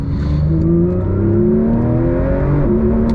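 Porsche 992 GT3 Touring with a PDK gearbox, its flat-six engine revving loud and close, holding a strong steady tone that climbs and shifts briefly, heard alone.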